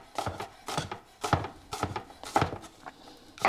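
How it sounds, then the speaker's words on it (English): A kitchen knife chops an onion on a cutting board, giving about eight crisp, evenly spaced chops close up with a brief pause partway through, no talk. "Got that onion chopped up."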